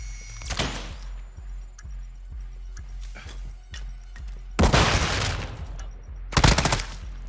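Gunfire in the video game Modern Warfare 2 comes as a sharp opening shot, then a rapid, regular run of lighter automatic fire. Two loud, dense bursts of heavy fire follow later, close and prominent throughout.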